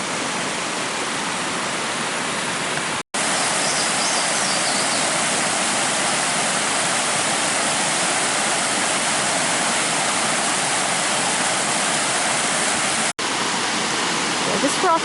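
A waterfall at a nature reserve pours in a continuous, loud rushing hiss, steady throughout, broken by two abrupt brief dropouts, with no talking over it.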